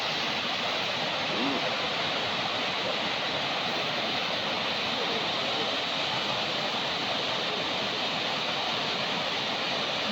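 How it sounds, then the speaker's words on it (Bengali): Niagara Falls roaring in cold weather, a dense continuous broadband rush of falling water with no breaks, steady and fairly loud throughout. "নাগরা ফলসের পানি বরফ হয়ে যাচ্ছে।"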